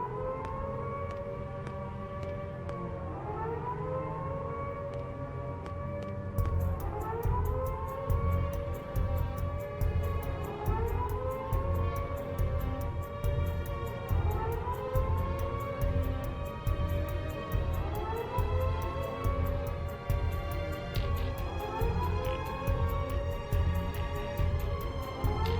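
A wailing siren in the video game Xenoblade X sounds a steady cycle of rising and falling wails about every three seconds, loud and continuous, with a denser, brighter layer of game sound joining after the first few seconds.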